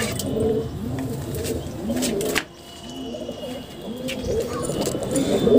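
Pigeons cooing inside their box, with soft, rolling coos repeating up close and a brief lull partway through.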